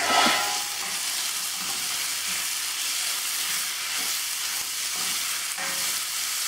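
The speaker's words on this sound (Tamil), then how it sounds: "இப்போ இது வெங்காயம் ஓரளவு வதங்கின உடனே ஒரு பெரிய தக்காளி பழத்தை சின்னதாக கட் பண்ணி வச்சுருக்கேன்." Onions with chopped tomato fry in a pan for Kerala-style kadala curry, giving a steady soft sizzle with occasional stirring scrapes, close and fairly quiet, without talk.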